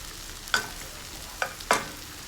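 Honey garlic sauce with jaggery powder and pepper being stirred in a pan: three separate scraping strokes of a spoon against the pan over a faint background, with no talking.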